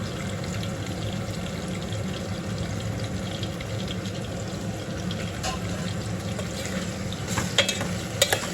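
Brinjal (eggplant) fries in a pan with a constant sizzle and hiss, with occasional scraping and clinking as it is stirred near the end, and no voices.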